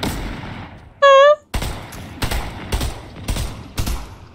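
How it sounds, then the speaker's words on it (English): Gunfire in the Fortnite video game: a sharp tonal whine, then a series of loud, evenly spaced shots cracking out about half a second apart. "Oh, they're shooting at us from a thing, from above."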